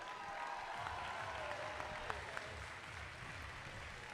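An audience at a high school robotics qualifier tournament applauds the winning team, a dense, sustained wash of clapping from a large crowd in a gym-like hall, with a few sharper individual claps standing out.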